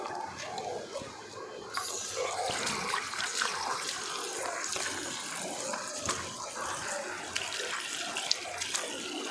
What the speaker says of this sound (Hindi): अभी मैं पानी से इसको धो लेता हूँ।